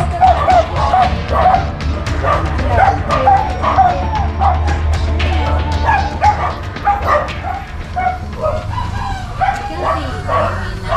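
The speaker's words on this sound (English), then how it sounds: "Just forget the dogs next door." Several dogs barking loudly and continuously in a neighbouring yard, sharp repeated yaps and woofs close by, mixed with a rooster crowing and people talking.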